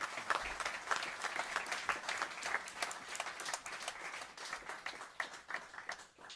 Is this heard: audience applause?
yes